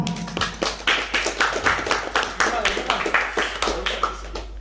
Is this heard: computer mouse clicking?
no